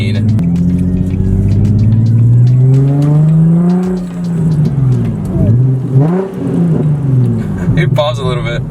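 A cheap Infiniti G35 restored with full interior revs its engine while driving, a loud steady drone rising and falling in pitch through several accelerations, with people talking over it.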